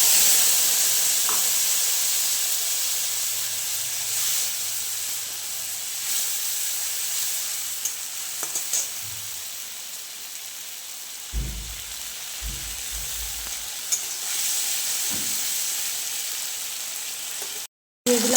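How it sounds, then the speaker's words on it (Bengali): Dried chilli, garlic and panch phoron fry in oil before mustard paste goes in, a steady, fairly loud hiss and sizzle throughout with a few low knocks, cutting out briefly near the end. "শুকনো লঙ্কা রসুন আর পাঁচ ফোড়ন দিয়ে দিয়েছি এবার সর্ষে পাড়াটা দিয়ে দেবো"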